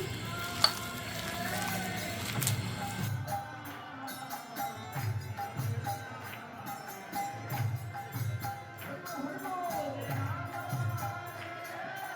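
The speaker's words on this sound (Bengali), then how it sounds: "ভালোভাবে সবগুলো উপকরণ মিশিয়ে নিচ্ছি" Mixing pizza ingredients with ghee and chopped green chilli for an Ekadashi recipe: soft, irregular scraping and stirring strokes in a bowl, close and fairly quiet.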